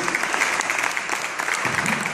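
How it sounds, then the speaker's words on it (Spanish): Applause from an audience at a ceremony in the Buenos Aires city legislature, a steady dense clapping crowd filling the whole stretch without pause. "les pido un fuerte aplauso"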